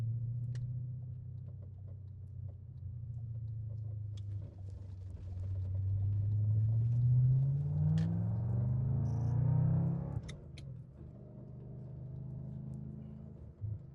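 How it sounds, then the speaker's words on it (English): A 2006 Audi S4 Avant accelerates on a road test drive, its engine rumble rising steadily in pitch as revs build, then dropping back after a shift to a lower steady drone; heard from inside the cabin at moderate loudness. "we're just hoping traffic gets out of our way so we can give it a little bit of juice and give you an idea of how it runs and drives"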